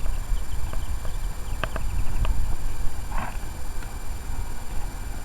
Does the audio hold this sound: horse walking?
yes